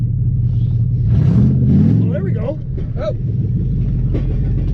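A straight-piped Hemi engine in a donor truck revs hard with a deep, loud, continuous rumble that swells and eases, while people talk and exclaim briefly over it.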